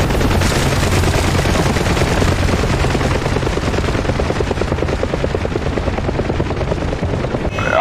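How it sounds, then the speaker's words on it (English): In the DCS flight simulator game, a helicopter's steady rotor chop drones loudly throughout, mixed with rapid bursts of gunfire in a dense, continuous din. "there's a helicopter in there"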